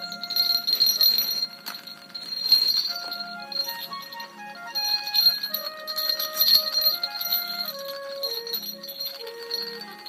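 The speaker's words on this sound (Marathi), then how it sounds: "तुम्हाला आता ना एवढं मी घुंगरं टाकून दाखवतो" Small ghungroo bells ring with bright, sustained metallic chiming while a ghungroo string is being made by hand. The ringing tones overlap and shift steadily across the whole stretch at a moderate, close level, with no talking.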